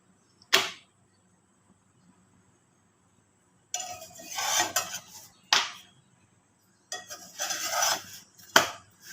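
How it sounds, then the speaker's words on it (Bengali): Rotis fried in a pan make sharp metallic clanks and short bursts of scraping and sizzling, separated by quiet gaps, close by and moderately loud. "আর এখন আমি রুটিগুলো ভেজে নেব।"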